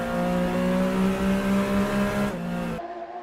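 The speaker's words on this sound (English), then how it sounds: "I just thought I'd go quiet then so you got to enjoy some Busso noises" An Alfa Romeo Busso V6 wails in a racing video game: a sustained high-revving tone that holds, then drops twice as the revs change near the end, with no voices over it.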